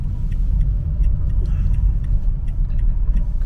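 A car rolls slowly into a car park, its engine and tyres producing a low steady rumble, with a few light rattles and clicks on top.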